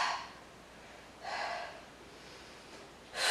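Big breathy exhales during a Pilates interval workout with weights come as three forceful airy whooshes spaced about a second and a half apart, close and alone.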